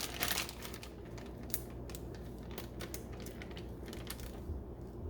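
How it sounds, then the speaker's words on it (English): A plastic freezer bag filled with pork and a brown sugar marinade is zipped shut, giving faint crinkling and small ticking clicks along the seal, close but quiet over a low room hum. "Just gonna zip your bag up."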